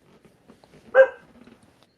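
A dog gives a single short, sharp bark, fairly close and loud, standing out from faint low murmuring in a quiet room during a podcast.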